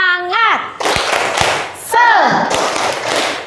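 A classroom of children joins a teacher in a rhythmic spirit clap, sharp sharp hand claps in short bursts alternating with shouted chanting voices and the teacher's speech.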